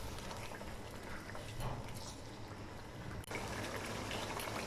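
White mutton karahi bubbles and sizzles quietly in a pan, a faint continuous simmer with soft gurgling and no voices.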